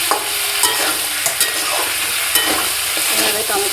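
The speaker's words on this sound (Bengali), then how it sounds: "সস দিয়ে একটু নাড়াচাড়া করে নেবো।" Masala and tomato sauce are stirred in a frying pan over lowered heat, producing a loud, continuous sizzle broken by regular spatula scrapes and taps.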